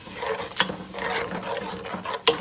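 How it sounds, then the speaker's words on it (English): A spoon stirring milk in a cooking pot while making bishmele, with soft scraping and rubbing strokes and two sharper clinks against the pot, close and alone. "and stir"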